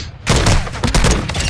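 A burst of rapid gunfire sounds in a video game, loud and close, with shots spilling into each other in a dense rattle after a brief quiet start.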